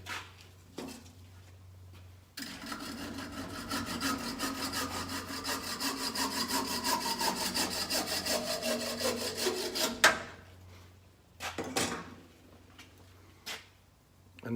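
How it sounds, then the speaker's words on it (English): A hand saw cuts through the wooden handle of a small sledgehammer just below the head, a steady rapid rasping of back-and-forth strokes for several seconds up close, then stopping, followed by a few knocks and handling noises. "right now I'm going to take a saw and cut the head off."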